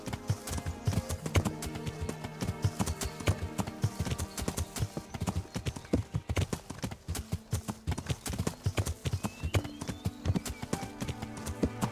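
Horse hooves in the medieval role-playing game Kingdom Come: Deliverance, with a mount ridden at speed along a road: loud, steady, rapid clopping throughout, over sustained tonal background sounds.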